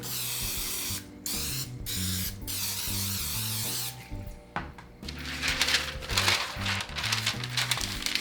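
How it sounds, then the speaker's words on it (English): Short bursts of cooking spray hiss out, a few quick puffs and then a longer spritzing stretch, over steady background music. "I'm just going to be coating it with some non-stick cooking spray"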